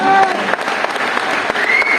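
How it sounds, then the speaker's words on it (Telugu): Loud, steady applause from an audience at a speech event, many hands clapping continuously, with a few faint voices mixed in. "గట్టిగా క్లాప్"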